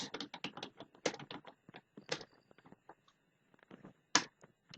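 Rapid bursts of keystrokes on a computer keyboard typing a short phrase, crisp clicks in quick clusters with short pauses between, close and clear.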